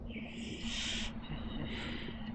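An owl creature's call in the Creatures of Sonaria video game gives two steady, hoot-like tonal bursts over a constant low game hum, with no voices.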